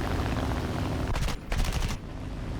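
Brigand B.1 aircraft guns firing in War Thunder, two short bursts of rapid cannon fire cutting through a steady engine drone, close and loud, each lasting under half a second.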